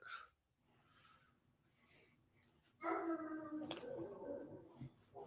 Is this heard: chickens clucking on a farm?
no